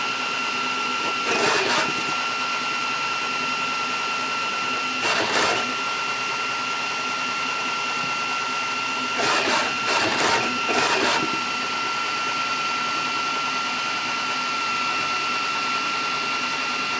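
A Flashforge Adventure 5M 3D printer prints a solid .444 Marlin loading block, with a steady fan hum broken by several short bursts of whirring stepper-motor movement, and no voices.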